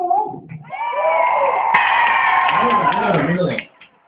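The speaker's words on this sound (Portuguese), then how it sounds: "Salva de palmas e grito!" Group aboard a tour boat letting out a sustained loud shout and cheer with some clapping, rising after a brief voice and lasting about three seconds before cutting off.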